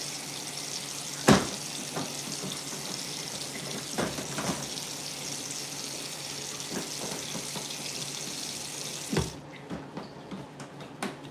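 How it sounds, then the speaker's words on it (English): Water runs steadily from a tap while a mirror is cleaned, a continuous close rush with a few louder splashes and knocks, cutting off near the end and leaving scattered drips. "First off, I'm going to clean the mirror with just water."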